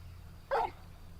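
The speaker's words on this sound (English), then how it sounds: "Look at my pretty wolf dog." A single short bark from a pet wolf dog in the role-playing game Final Fantasy 16, clear and moderately close over a quiet low background hum.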